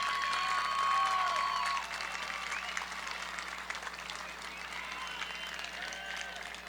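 Families and graduates clap at the 2021 Perris High School graduation ceremony, a fairly distant, steady patter of applause filling an outdoor venue, with some voices over it early on.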